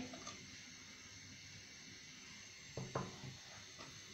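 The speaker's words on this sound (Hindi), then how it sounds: "साथ पानी ऐड कर देंगे" Water pours into a saucepan holding raw chicken in a home kitchen, a steady broadband splashing stream with a few brief louder sloshes and clinks near the end.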